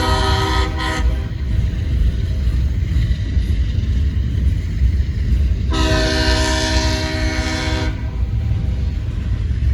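A Norfolk Southern freight train rumbles past steadily with rail noise, while its horn sounds one short blast and then a longer, loud blast midway through.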